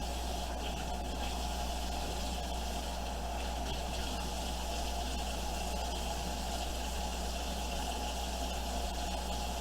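Tap water runs steadily while salmon is rinsed for a chopped salmon po' boy, a continuous, fairly even wash of flowing water under a low hum, with no talking.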